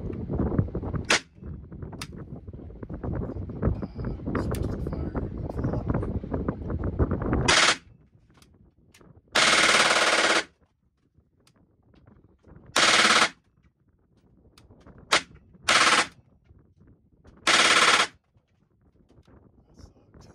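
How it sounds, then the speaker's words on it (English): A gun fires in short, loud full-auto bursts that keep cutting off unexpectedly, with silent gaps between the bursts. These follow an earlier stretch of rough, steady rumbling noise. "it kept stopping the fully automatic fire and reverting back to single shot"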